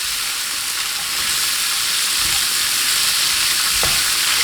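Bacon and potatoes sizzle steadily in a pan for a breakfast burrito, a continuous close frying hiss with occasional soft stirring scrapes and no voices.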